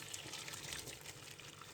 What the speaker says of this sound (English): put water, let this boil, enough water to cook it's a whole bag of spaghetti